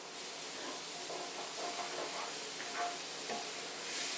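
Noodles with soy sauce cooking down in a pan, giving off a steady, soft sizzle and hiss with faint stirring clicks.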